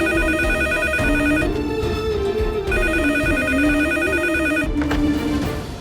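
A landline telephone rings steadily and loudly in an indoor home setting, its electronic ringtone repeating in even bursts before cutting off near the end.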